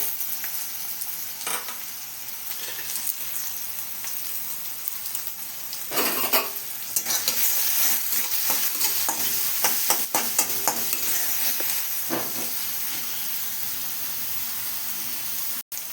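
Onion and ginger frying in mustard oil in a hot wok, a loud continuous sizzle with scraping stirs and clattering spoon strokes that swell midway, no talk.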